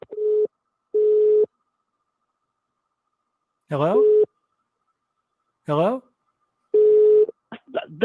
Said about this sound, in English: The phone was beeping, and you were cutting out.